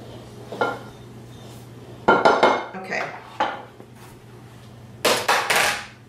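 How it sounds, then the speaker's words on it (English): A dough whisk stirs salt into flour in a bowl, heard as a few separate bursts of close clattering and knocking against the bowl, with quiet between them. "I'm going to use my dough whisk and just mix the salt into the flour"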